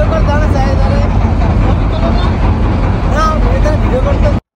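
Trawler boat engine droning steadily on a river, a loud continuous low rumble running throughout, with voices and babble from passengers aboard mixed in over it until it cuts off abruptly.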